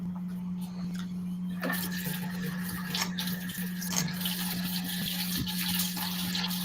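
Water runs steadily into a pot of cooking pinto beans in a home kitchen, a continuous splashing stream under a constant low appliance hum, with no voices.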